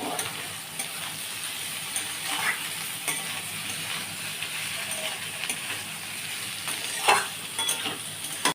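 Chopped ginger and green chilli frying in a pan for vegetarian soybean rice make a soft, steady sizzle, broken by occasional light clinks and scrapes of stirring.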